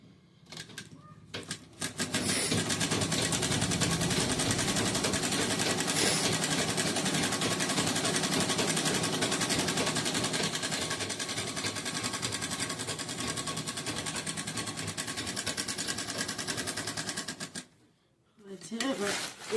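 Sewing machine stitching a bag, running close and loud in one continuous whir for about fifteen seconds before stopping near the end, with a voice briefly at the edges.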